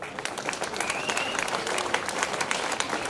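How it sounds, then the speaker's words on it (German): Applause from an outdoor festival crowd at the Annafest opening and parade, many hands clapping in a dense, crackling patter that carries on steadily throughout, with faint voices mixed in underneath. "Lieber Thomas, Applaus an dich."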